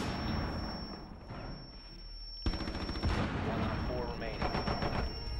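Bursts of automatic gunfire in Rainbow Six Siege: a quieter stretch, then a sharp onset of loud, rapid shots that continue to the end, with voices under the shooting.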